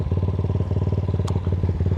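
A 2021 X-Pro Titan 250cc dirt bike engine, choke cut fully off, sputters and struggles to keep running, its rapid uneven firing pulses loud and close with a brief clatter partway through.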